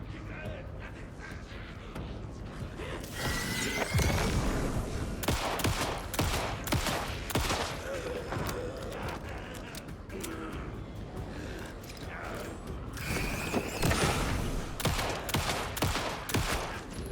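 Rapid gunfire in the video game Alan Wake 2, with dense bursts of shots crackling in waves. Faint voices mix in beneath the firing.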